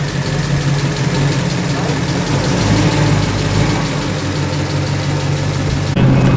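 A 1934 Ford Coupe engine running on the highway while stuck in third gear, a loud, continuous rough drone with steady rhythmic pulsing and a brief shift in tone near the end.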